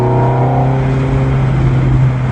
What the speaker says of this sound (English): So obviously you can downshift to get the soundtrack back there. You go into fourth gear.